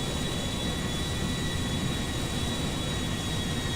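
An airplane flying in the Grand Theft Auto 5 video game gives a steady, unbroken engine roar with a constant high whine, even and continuous throughout, with no voices.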